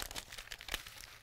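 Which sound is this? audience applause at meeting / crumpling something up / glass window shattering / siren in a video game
crumpling something up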